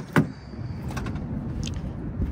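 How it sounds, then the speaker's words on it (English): A Honda Odyssey van's power sliding door closes by itself with a soft whirring slide and a sharp latch thunk near the start, followed by quieter mechanical rustles and low outdoor rumble. "doors closed by itself on both sides."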